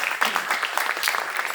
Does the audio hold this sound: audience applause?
yes